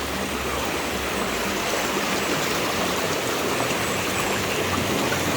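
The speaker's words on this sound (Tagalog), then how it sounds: "parang malakas pa rin yung tubig" Strong river water rushes beneath a broken bridge, a steady, full roar of flowing water that stays loud and unbroken from start to end.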